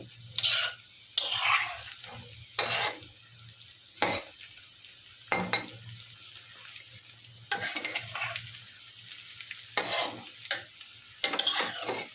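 Cauliflower pakoras frying in oil over raised heat, bursts of bubbling sizzle alternating with quieter gaps and occasional clinks of a utensil, close and without voices.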